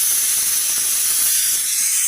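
A pressure cooker on a kitchen stove vents steam in a steady loud hissing whistle that runs without a break.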